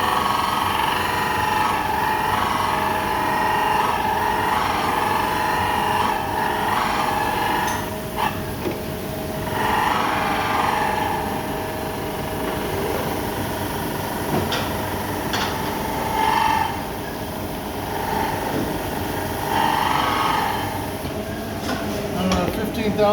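Billet camshaft for a Honda D16Y8 being ground on a grinding machine, a steady loud mechanical hum and whine with faint shifts in pitch as the lobes are cut, running continuously throughout.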